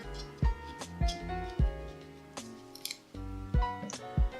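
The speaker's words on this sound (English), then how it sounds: "So I cut a swath of lemon." Knife cutting a swath of lemon peel for a cocktail garnish, several sharp crisp cuts and snips in quick succession, close and clear over a quiet room tone.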